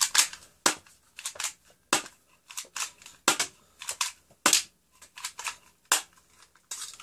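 A cheap plastic Spy Mission Beretta toy BB gun fires in a quick series of sharp, close snapping clicks, some single and some in quick pairs, with no talking.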